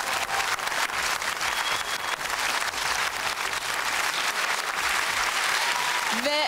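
A studio audience applauds the jury of the dance competition show Yok Böyle Dans, a loud continuous wash of clapping with a few sharper claps, held steady and joined at the very end by a rising tone.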